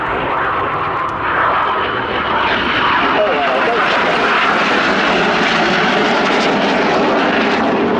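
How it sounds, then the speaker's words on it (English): Red Arrows jets fly a formation display at RIAT, a loud, sustained roar of jet engines that swells and holds steady throughout, with voices talking underneath. "Each aircraft will form a barrel roll, cross about 30 metres, wingtip to wingtip, followed by inverted flight"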